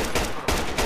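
Rapid burst of gunfire in the military shooter game Project Reality on the Goose Green map, loud, dense repeated shots with short pauses, no talk.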